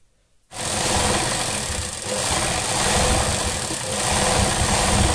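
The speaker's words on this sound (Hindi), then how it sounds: "यहाँ से नीचे हम सीधी इसको एक सिलाई देंगे" A sewing machine running a straight stitch down a sleeve, starting abruptly after a brief silence into a loud, rapid, continuous mechanical whir close by, with no voices.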